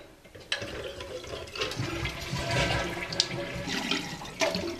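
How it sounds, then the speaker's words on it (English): Water rushes and trickles steadily into a toilet tank, close and moderately loud, with small splashes and gurgles throughout. "if you can hear it, water running a little bit"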